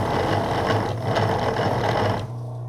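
Worn Crankandstein grain mill motor running steadily with a low mechanical hum and a busy whirring rattle, close and continuous, easing to a lower drone near the end.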